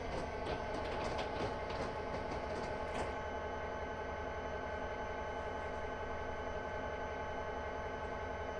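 A container freight train rolls past at a steady clatter of wagons, with sharper rattles over the first three seconds before settling into a continuous, even rumble.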